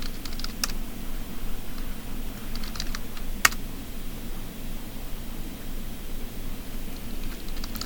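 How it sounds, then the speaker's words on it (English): Fingers type a password on a computer keyboard in sparse, irregular clicks and taps, close and fairly quiet over a steady background hiss, with one sharper key strike in the middle and no talk. "Try to type your password properly."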